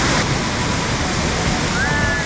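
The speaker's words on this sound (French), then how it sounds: "elle est costaud quand même la cascade, elle part de là-haut" Steady, dense roar of a waterfall cascading from high above, close by, broadband and continuous, with a brief faint tonal whistle near the end.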